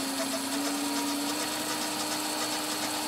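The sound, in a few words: Smarty AT-300 lathe motor running at 50 hertz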